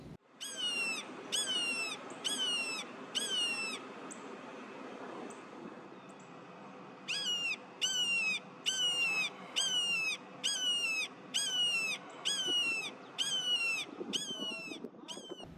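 Juvenile red-shouldered hawk giving repeated high-pitched, squeaky calls in two rapid rhythmic bursts of about five and eight notes, fairly clear over a low outdoor hum.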